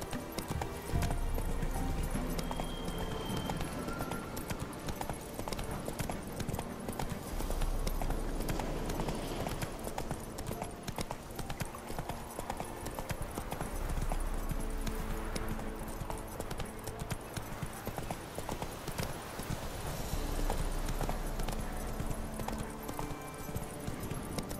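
Hooves of Roach, a horse in The Witcher 3, clip-clop in a steady trotting rhythm across the whole stretch, fairly close and continuous, with a brief spoken remark.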